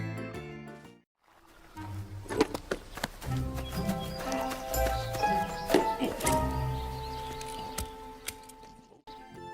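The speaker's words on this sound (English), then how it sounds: "the next one we have horse. That's a beautiful design and color horse" A horse's hooves clip-clop in quick uneven beats, joined by bright tonal whinnying and neighing that rises and falls, close and clear with music-like harmonic tones throughout.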